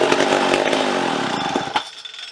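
Vintage 1960s McCulloch 300 chainsaw engine running loud and close on choke, a rough buzzing roar that sags in pitch, then sputters and cuts out near the end.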